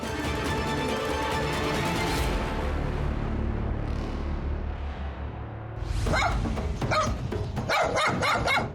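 Many different dogs at a dog farm bark in loud, sharp bursts, several close by, with whimpers and yips mixed into a busy, rustling background.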